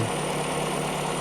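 A 2019 Toyota Camry 2.5 hybrid, its A25 engine clean and original, idles close by with a constant, smooth, level drone.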